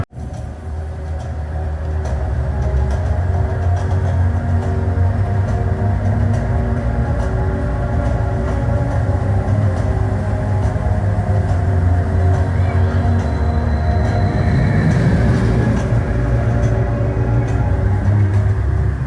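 A roller coaster launch at Blackpool Pleasure Beach: a loud, sustained mechanical rumble and rushing roar that swells quickly and holds steady, with a rising whine near the end.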